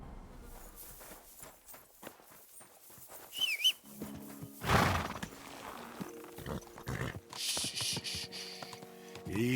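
Horse hooves clopping on the ground with a snort or whinny in the medieval game Kingdom Come Deliverance II, mixed with other game sounds and low ambience, moderately close.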